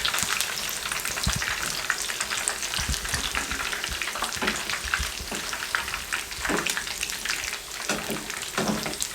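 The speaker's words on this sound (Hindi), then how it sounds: "इनको भी इसी तरीके से हम फ्राई कर लेंगे 7 से 8 मिनट में।" Beef gola kababs fry in a pan with a dense, loud sizzle that crackles continuously, broken by scraping and stirring knocks as the kababs are turned.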